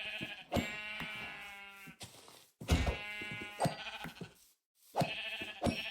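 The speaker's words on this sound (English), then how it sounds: "All these sheep." Several loud, close sheep bleats from a video game come in overlapping bursts with short pauses between them, one after another.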